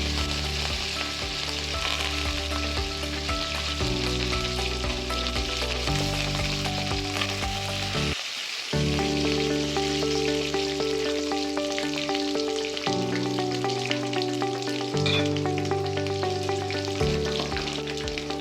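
Lentils, curry leaves, garlic and dried chilies fry in hot oil for puliyogare, a steady close crackling sizzle running without pause, with occasional stirring scrapes and a brief quiet gap midway.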